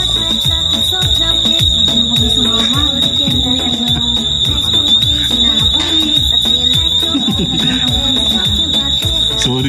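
A device alarm sounds a continuous piercing high-pitched tone that persists loud throughout, over a busy background of chatter and shop-floor noise at an outlet mall.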